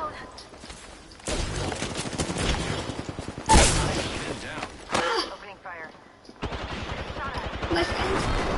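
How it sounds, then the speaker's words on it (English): Gunfire in the Apex Legends video game, several bursts of rapid shots broken by short pauses, loud and close, with a voice talking between and over the shooting. "Opening fire."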